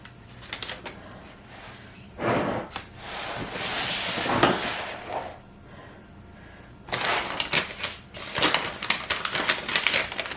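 Paper bag of flour folded over by hand, bursts of crinkling and rustling paper separated by brief quieter pauses, close up, with no speech.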